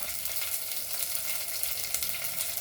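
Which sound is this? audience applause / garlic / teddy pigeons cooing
garlic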